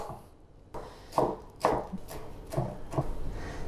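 A knife chops fresh herbs on a cutting board in a few sharp, separate strikes about half a second apart, close and crisp in an otherwise quiet kitchen.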